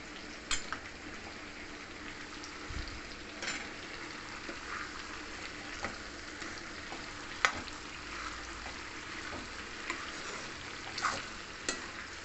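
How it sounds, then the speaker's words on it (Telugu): Mango pieces for a jaggery mango pickle fry in a pan with a steady, soft sizzle, broken by occasional scraping clicks as they are stirred, with no talking. "చూసారా, ముక్కలు మగ్గుతున్నాయి."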